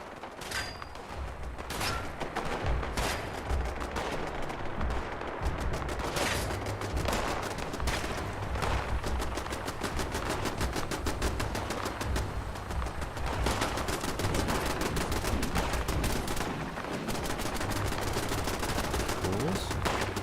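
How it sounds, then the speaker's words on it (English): Relentless automatic gunfire in the game Pantheon: Rise of the Fallen, a dense, loud, near-continuous rattle of rapid shots with mechanical clatter, lasting throughout, and a voice faintly talking beneath it. "What is shooting at me?"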